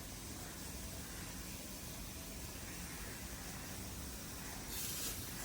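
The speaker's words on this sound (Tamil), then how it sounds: "கொஞ்சமாக எண்ணெய் ஊற்றிக்குவோம்" Oil poured into a cooking pan for a curry-leaf dish, a steady soft hiss throughout with a brighter sizzling burst near the end, quiet and without talk.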